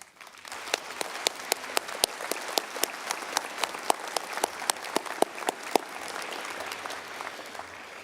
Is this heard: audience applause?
yes